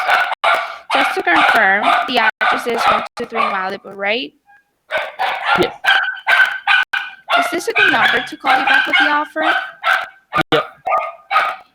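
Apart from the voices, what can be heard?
dogs barking during a phone call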